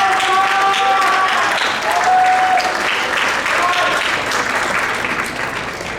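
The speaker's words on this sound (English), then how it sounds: "So round of applause for Ron Mead as he comes up on the stage." Audience applause at a seventh grade winter school concert, a dense sustained wash of clapping from a crowd lasting several seconds, with some faint voices mixed in.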